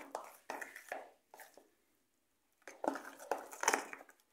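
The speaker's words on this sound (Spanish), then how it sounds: "Yo lo estoy haciendo con el tenedor para que vean que pues no se necesita nada de eso." A fork mixes fried ice cream batter by hand in a bowl, giving quick clinking, scraping bursts in short rhythmic runs, a pause, then a louder flurry. No one talks.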